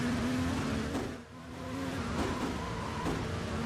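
Race cars in an IndyCar-style racing video game drift side by side, with a continuous engine drone and revving pitch shifts, a brief dip and then the engines pulling again, close and loud.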